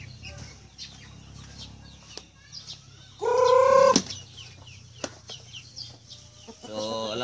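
Farm chickens cluck and call in short bursts, with one louder squawking burst near the middle, while a person speaks nearby and the feeding area carries faint rustling.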